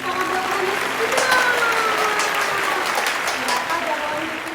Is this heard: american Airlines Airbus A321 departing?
no